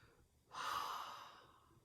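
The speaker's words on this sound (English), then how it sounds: "as we open out our hands, we breathe out" A single soft exhale drawn out over about a second during a vocal warm-up exercise, faint and close, starting abruptly and fading gradually.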